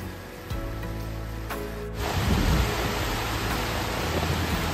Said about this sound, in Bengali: বাইরে শুরু হয়ে গেছে ঝমঝমিয়ে বৃষ্টি, আর বৃষ্টির সাথে সমান তালে চলেছে হাওয়া, ঠিক যেন কালবৈশাখীর ঝড়।